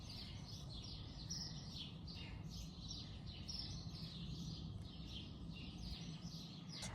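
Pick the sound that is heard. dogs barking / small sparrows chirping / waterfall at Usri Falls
small sparrows chirping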